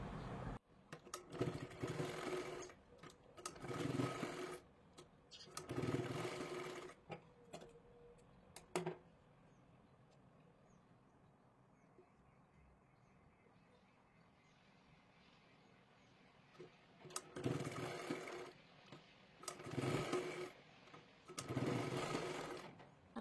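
Sewing machine stitching a blouse sleeve, several short loud bursts of running separated by a quiet pause, near and alone.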